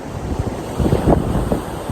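Rushing wind buffets the microphone while waves wash and surge nearby, a loud, continuous seaside roar on the shore at Udvada village, Gujarat.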